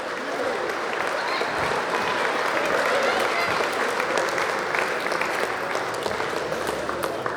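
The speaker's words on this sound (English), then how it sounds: "ladies and gentlemen, give these guys a round of applause" Sustained audience applause at an awards event, a dense, loud wash of clapping from a crowd that holds steady throughout with a few faint voices beneath.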